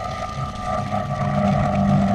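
Motorcycle engine on a hill climb road, throttle being rolled on, giving a steady droning hum that slowly swells louder over the short stretch.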